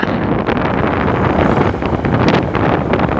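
A steady breeze in Laguna, Philippines blows across the microphone, producing a constant low rushing rumble for a few seconds with no talking.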